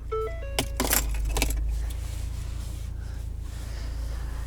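A 2019 Ford Fiesta ST is started after keys jangle at the ignition. The engine catches and settles into a steady, close, low idle rumble with no talking.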